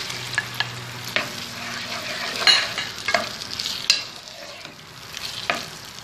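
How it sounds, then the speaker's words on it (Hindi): Ginger garlic paste being fried with onions in a pan gives a soft, steady sizzle, broken by scraping stirs and occasional light clinks of a spoon against the metal, close by and with no speech. "इसमें लहसुन अदरक का पेस्ट डालें, इसको अच्छे से भूनना"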